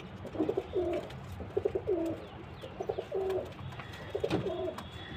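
Soft, rhythmic cooing from a pigeon, several low throaty phrases repeating close by over a faint background hum.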